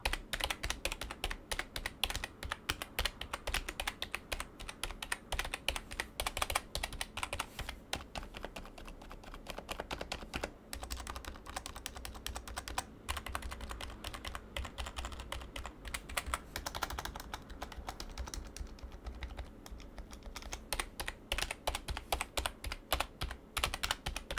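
Steady, continuous typing on a linear mechanical keyboard with smooth, evenly paced keystrokes, close and fairly loud, running the whole time with no talking.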